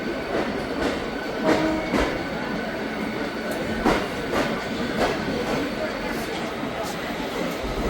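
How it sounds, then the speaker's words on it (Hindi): A Mumbai local train runs from Kalyan towards Thane, heard from inside a carriage near the window: a loud continuous rumble with rhythmic clickety-clack wheel beats over rail joints and occasional faint squeals. "कल्याण से लोकल रवाना हुई तो कुछ ही मिनटों में पहला स्टेशन आ गया, ठाकुरली।"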